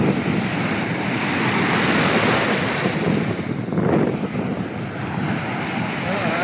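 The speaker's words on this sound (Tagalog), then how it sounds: "Ang laki ng alon, mga idol." Big ocean waves crash on the beach at a Tanza, Cavite resort, a loud, continuous roar of surf with heavy wind buffeting the microphone throughout.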